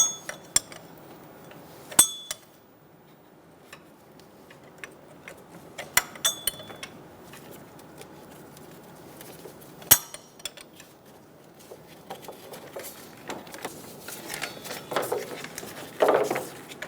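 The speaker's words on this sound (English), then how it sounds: "Using a 15mm wrench, we're going to get on the tensioner pulley, take the tension off." A 15mm wrench on the belt tensioner pulley of a 2003-2007 Honda Accord, easing tension to pull off the drive belt: sparse, close metallic clicks and clanks over quiet, with a few sharper knocks and rustling near the end.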